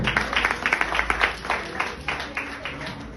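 A church congregation claps together during a sermon. Quick, fairly even claps from a group run for about three seconds under a steady low hum, with a little voice mixed in.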